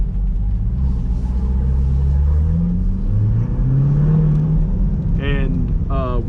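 A 2021 Chevy Corvette C8 Stingray rumbles with a deep, steady exhaust note that swells as the engine revs, heard from inside the car, with a voice talking briefly near the end.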